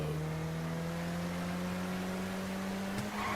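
A car engine in the video game GTA V holds a steady, droning hum at an even pitch, continuous and fairly loud, with a brief bump near the end and no talking.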